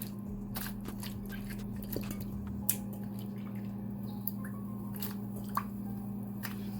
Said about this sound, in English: So I'm just gonna put them in the pot to boil with some salt.